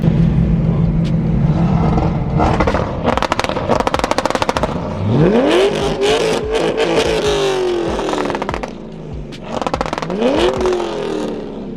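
A car fitted with two-step launch control revs hard in repeated loud bursts, crackling and popping as the engine climbs and falls again, with the sound close and dominant.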